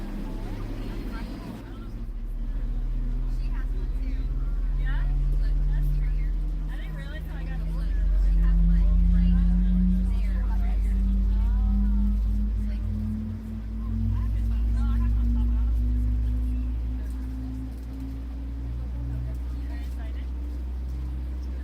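An Airbus A320 engine starts up in the Fenix flight simulator, a steady whine that climbs slowly in pitch as it spools up over a constant low rumble, loud and continuous throughout.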